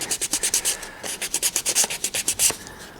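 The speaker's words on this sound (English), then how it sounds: "So if I rub that with the sandpaper" Sandpaper rubs briskly over foam terrain in quick back-and-forth strokes, a steady rhythmic scratching heard up close with no talk.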